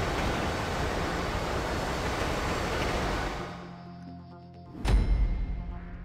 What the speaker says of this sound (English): We really got a whole train out here.